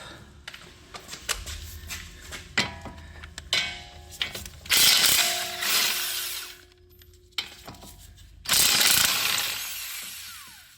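Ratchet wrench loosening fastener nuts on a car's suspension during a clunking-noise repair, with rapid ratcheting clicks in several bursts, close and fairly loud, separated by short pauses and handling noises.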